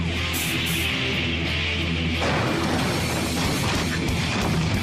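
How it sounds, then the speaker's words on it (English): A patrol car rams a meat truck during a police pursuit. Steady engine and road roar run throughout, broken by a dull heavy impact near the middle, followed by rougher, louder crunching noise. "As this patrol car hits the meat truck."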